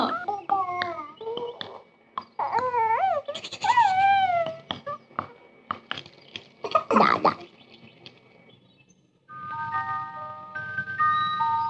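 A puppy gives high, wavering whimpers and yelps during play, mixed with other noises, followed by a stretch of steady melodic tones.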